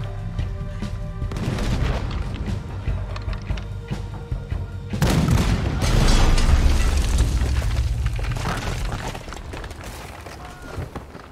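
Heavy booming cannon fire and explosions during a ship battle in Red Dead Redemption 2, a rumbling barrage that swells sharply midway and stays loud before easing, with mechanical clatter mixed in.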